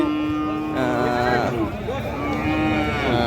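Friesian heifers at a busy cattle market give drawn-out, fairly loud moos over the murmur of people talking nearby.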